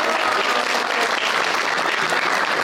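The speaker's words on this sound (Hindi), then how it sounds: "आइए तालियां।" Studio audience applause on a television talk show, a dense, even, loud wash of many hands clapping continuously throughout.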